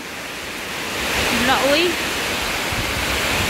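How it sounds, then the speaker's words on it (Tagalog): Steady heavy rain roars in a dense wash, with a brief vocal exclamation partway through. "ang lakas ng ulan"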